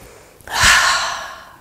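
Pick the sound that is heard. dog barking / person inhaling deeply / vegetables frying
person inhaling deeply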